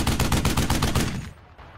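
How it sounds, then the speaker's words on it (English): A T-34 bow machine gun fires as a wargame sound effect: a dense, fast rattle of loud, close bursts lasting about a second before fading out. "A nearby T-34 fires its bow machine gun but has little effect"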